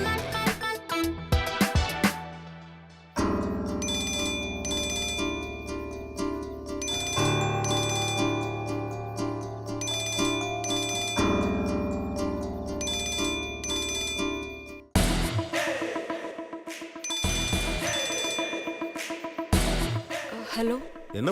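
A phone ringtone plays loudly and continuously, a repeating bright melodic ring with bell-like tones that restarts several times, heard alone in an indoor scene from a Tamil TV serial.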